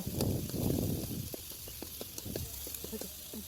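Beaten egg fries in a pan for a noodle dish, giving a hissing sizzle with scattered pops and crackles that are strongest at first and fade to a fainter spatter.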